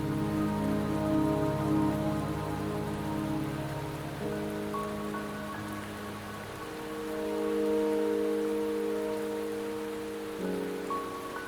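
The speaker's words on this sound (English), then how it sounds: "Don't worry, the rain won't last much longer." Steady rain in the video game Wuthering Waves patters continuously under a soft, sustained musical drone with layered tones, gentle and even throughout.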